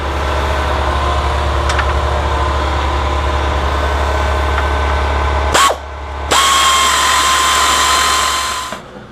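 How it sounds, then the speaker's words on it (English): An air compressor running during work on RZR rear high-clearance A-arms, a loud steady mechanical drone that drops out briefly near the end and then resumes before cutting off. "Air compressor has finished compressing, so let's continue."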